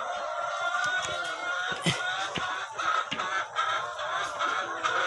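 A flock of poultry on a farm clucks and murmurs close by, steady and busy, with a few sharper squawks breaking through.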